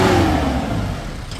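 A 2020 Tempo Traveller with a CR4 diesel engine revs up close by, a loud gruff roar that rises briefly then eases and settles into a lower steady idle.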